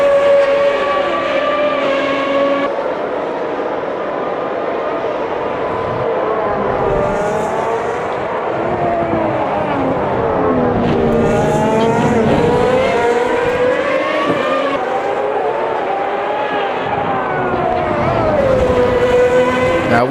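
A historic Ferrari racing car, Alain Prost's number 27, screams around the Monza circuit in the Automobilista 2 racing game. The engine note is loud, close and continuous, its pitch rising and dropping with each gear change and corner.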